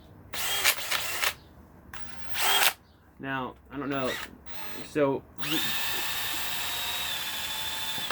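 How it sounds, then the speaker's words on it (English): A power drill whirs in short bursts, then someone speaks briefly before the drill runs continuously in a steady high whine, extracting a metal rod from a cast part. "with the drill, it makes it very easy to extract the metal rod."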